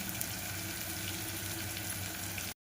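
Home-ground red chili, turmeric and mutton masala being stirred into tomatoes frying in a pan, a steady, close sizzle with no voices that cuts off abruptly after about two and a half seconds.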